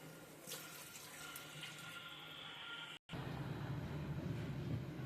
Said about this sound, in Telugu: 6 గ్లాసులు నీళ్ళు పోసుకున్నాం.